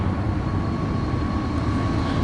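A train draws near across open desert, a broad low rumble and steady roar that holds evenly throughout with no voices.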